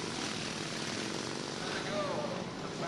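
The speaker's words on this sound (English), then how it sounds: "Listen to these great motorcycles." Vintage Excelsior and Harley-Davidson motorcycles race on a half-mile dirt oval at a vintage national meet, their engines a continuous droning roar with a rising whine passing by, while a commentator talks over it.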